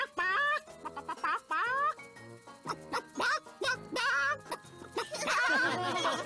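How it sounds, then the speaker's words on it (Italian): A cartoon hen in a children's animated series clucks and squawks in a string of bright, pitch-bending calls, several short bursts spread over a few seconds, close and clear with a little background music. "Tata Susina, puoi chiedere alla signora gallina di deporre un uovo per la mia colazione di domani"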